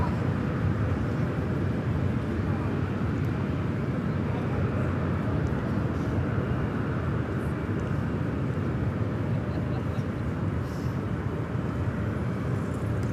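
An American Airlines Airbus A319 jet roars steadily on takeoff at LAX, heard from a distance. The rumble is broad and continuous, with faint voices in the background.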